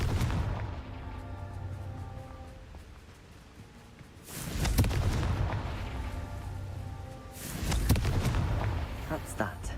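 Confringo explosion spell in Hogwarts Legacy, two loud booming blasts a few seconds apart over game ambience, with a voice talking.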